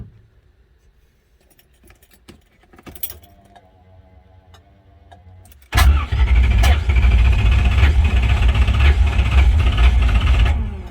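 A 1968 Corvette engine cranks quietly with scattered clicks and a rising starter whir, then abruptly fires and catches, jumping to a loud, rough, steady idle that runs close up for the remaining seconds.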